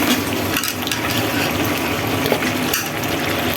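Ash gourd tumbling into a pan of spices already sautéed, setting off a steady, loud sizzle and frying hiss that runs throughout, with a couple of brief clatters partway through and no talking.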